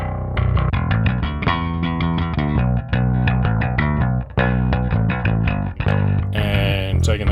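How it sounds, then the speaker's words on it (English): Electric bass through a Mosky Third Space multi bass amp with mids boosted at 900 Hz, playing a steady, punchy line with a thick, growling midrange tone, loud and close, with brief gaps between phrases. "If we set the mid control to 900, that's a classic growl frequency that I love."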